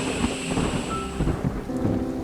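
Steady rain falls with a rumbling thunderstorm, continuous hiss of drops over low rolling thunder throughout, with no voices.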